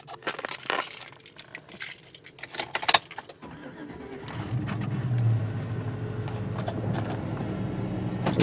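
Keys jangle and clink for a few seconds, then a Chevrolet engine with a cylinder 7 misfire code cranks and catches, settling into a steady, rumbling, shaky idle.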